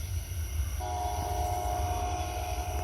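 A mile-long freight train rolls past a milepost at Abbeville, its steady rumble joined partway through by a sustained horn blast, heard from trackside without talk.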